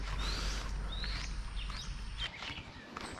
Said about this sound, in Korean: 여기저기 다 새소리